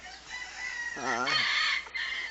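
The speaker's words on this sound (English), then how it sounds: "My son's got a bunch of Bantams over there, as you can see." A bantam rooster crows once at moderate distance, one rising and falling call in the middle of a quiet farmyard with a faint background hiss.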